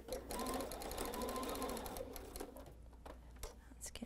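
A sewing machine hums and clatters steadily as it stitches a pinned quilt block for a Tree Farm table runner, running continuously and slowing slightly toward the end.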